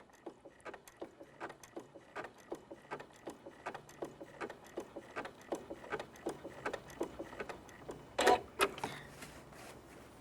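A domestic sewing machine stitches an automatic taper, its needle tapping in a quick, steady rhythm of soft, close ticks, with a brief brighter mechanical clatter near the end.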